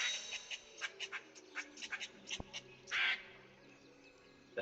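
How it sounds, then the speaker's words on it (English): Repeated harsh cawing squawks from a bird alarm in the video game Gatewalkers, a run of short crow-like calls with one longer screech near the end, fairly close and alone. "that is their bird alarm, gets mad at you."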